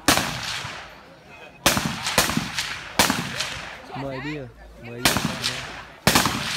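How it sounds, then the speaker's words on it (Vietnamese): AK-47 rifle fired with live rounds at targets on a range, loud sharp bursts of several shots each, spaced apart, with people talking between bursts. "Những loạt bắn đầu tiên đây."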